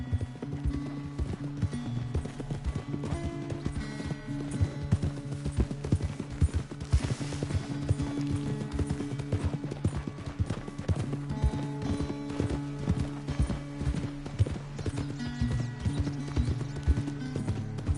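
Rapid, rhythmic clip-clop of galloping horse hooves in the video game Red Dead Redemption 2, over a steady musical background, continuous and fairly even throughout.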